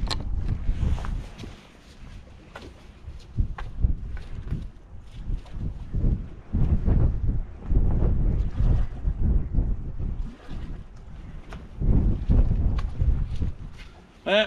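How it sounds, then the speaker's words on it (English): Wind gusts buffet the microphone on a riverbank of the River Humber while sea fishing from the back of a van, a steady low roar rising and falling in surges, with muffled talk in places. "it's probably the bloody wind"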